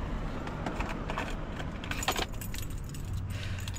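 Car keys jangle close by beside a car, giving a steady metallic rattling and jingling over a dense rushing background for several seconds, with no speech.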